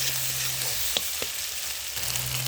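Chopped onions fry in a pan and are lightly stirred, with a continuous close sizzle broken by a few soft scraping knocks from the stirring, no voices.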